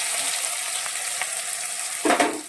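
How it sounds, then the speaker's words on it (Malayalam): Mustard seeds, onions and spices fry in hot oil for a sardine dish, a steady close sizzle with a sharper burst of crackle near the end. "ഇനി നമുക്ക് ഈ കടുക് താളിച്ച് അതിലോട്ട് നമുക്ക് ഈ ഉള്ളിയും ഇതെല്ലാം കൂടി ഇട്ട് കൊടുക്കാം"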